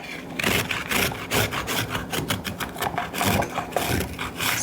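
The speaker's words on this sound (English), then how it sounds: "so I'm just gonna use a hand grater" Beets are shredded on a hand grater in repeated rhythmic rasping strokes, loud and close, each scrape following quickly on the last with no voices.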